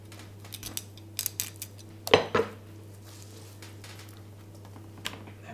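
Knife scraping and tapping along the centre bone of a whole salmon during filleting, a few short close clicks and scrapes with a brief louder scraping burst in the middle, over a steady low hum.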